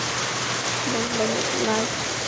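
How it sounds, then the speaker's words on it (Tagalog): Heavy rain pours down in a dense, constant hiss that fills the whole moment, with a faint voice briefly audible beneath the downpour. "Kusog yung kayong ulan"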